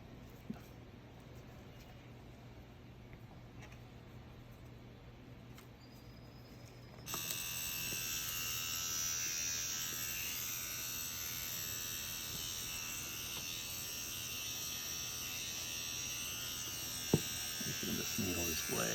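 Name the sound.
rotary tattoo machine pen running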